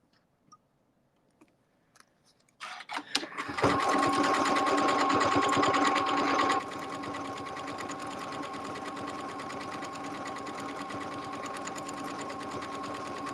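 Domestic sewing machine stitching along a heart template project, starting after a few clicks and running in a steady, close, rapid whir that drops to a slightly quieter continuous hum partway through.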